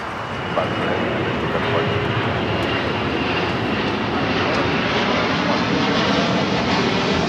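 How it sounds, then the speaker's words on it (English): A DHL Boeing 767 operated by ABX Air rolls down the runway at Los Angeles airport for takeoff, its broad jet roar loud, steady and sustained throughout, with a voice talking faintly beneath. "DHL 767 now rolling."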